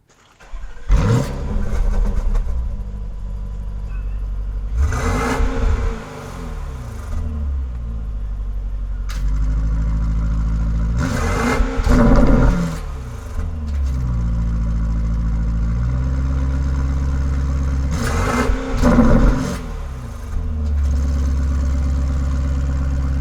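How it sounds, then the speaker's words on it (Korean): Porsche Cayenne Turbo GT exhaust as the engine is revved repeatedly, several sharp roaring bursts rising over a deep steady idle rumble, loud and close. "카이엔 터보 GT의 배기 사운드 들어보지 않을 수가 없겠죠."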